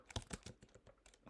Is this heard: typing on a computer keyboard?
yes